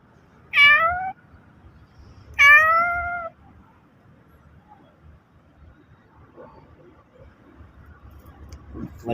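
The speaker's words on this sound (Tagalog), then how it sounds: "pinapanood lang tayo ng pusa mga kaibigan" A cat at an outdoor work site meows twice, two clear, drawn-out calls spaced a couple of seconds apart, followed by quiet shuffling and faint background noise.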